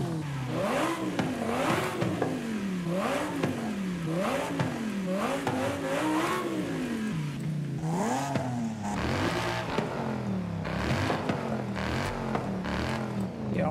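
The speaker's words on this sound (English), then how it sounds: "Why can't I rev the engines and check out the sound?" A V8 car engine in the video game Forza Horizon 5 revs repeatedly in rising and falling surges, a loud continuous roar close up, with no one talking.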